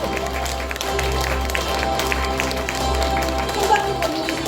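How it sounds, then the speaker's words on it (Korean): Audience applause at a neighbourhood award ceremony for a slogan contest winner, a steady wash of clapping from a crowd, moderately loud and sustained throughout, with some talk mixed underneath. "큰 박수 보내주시기 바랍니다"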